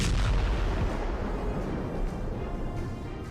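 Artillery fire in war footage from the Russia–Ukraine war, a heavy booming blast that rolls and rumbles, fading slowly into a dense low roar.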